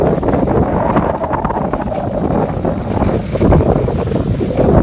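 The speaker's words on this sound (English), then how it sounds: "Quite incredible, it's quite windy." Strong wind buffeting the microphone in a steady, loud roar with gusty low rumbles throughout, no voices.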